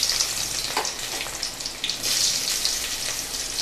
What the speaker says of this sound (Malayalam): എന്നിട്ട് നമുക്കിതൊന്ന് ഇളക്കിയിട്ട് കടുതാളിക്കാം. കടുകിട്ട് അതിനകത്തിലോട്ട് കുറച്ച് കൊച്ചുള്ളി,